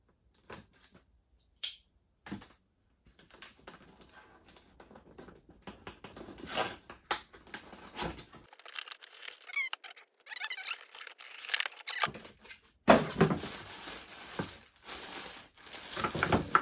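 A compact Milwaukee M12 inflator box is unpacked up close, with scattered crinkling, scraping and tearing of tape and cardboard at an uneven pace, growing busier and louder toward the end.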